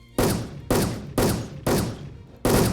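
Gunfire in the video game Wolfteam: five sharp, loud shots spaced roughly half a second to a second apart, each cracking in and then ringing out in a decaying tail, with no talk over them.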